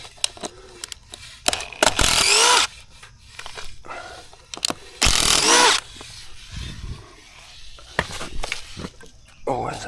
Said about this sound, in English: take out the screws.